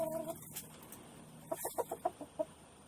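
A rescued rooster with scaly leg mites gives a run of soft, short clucks close by, about six quick calls in a loose rhythm after a brief louder call at the start.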